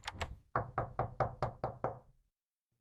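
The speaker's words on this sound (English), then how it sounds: "Someone is knocking at the door." Knocking on a door: two quick raps, then a steady series of about seven evenly spaced knocks, close and clear, with no other sound around them.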